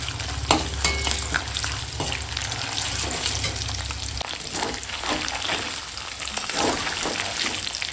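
Ginger-cumin paste sizzles in hot oil in a pan with whole cumin, a steady dense frying crackle with scraping stirs, close and continuous, preparing a winter khichuri and spiced chicken meal.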